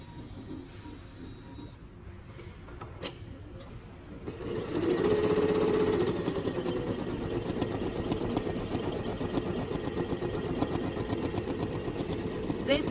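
A YunFu industrial embroidery machine fitted for flat, sequin and loose-bead embroidery starts up after a few quiet seconds, then runs steadily with a dense, rapid mechanical chatter of needles and a brief whirring tone as it gets going.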